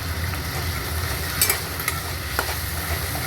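Chopped tomato added to a pan of frying spices for Bengali dhokar dalna, a steady close sizzle with a few clinks and scrapes of the stirring spoon, and no talk.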